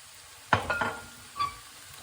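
Soy sauce poured over noodles in a hot pan gives a sudden loud sizzle and a few stirring scrapes, then a second, shorter burst of frying, with no talk.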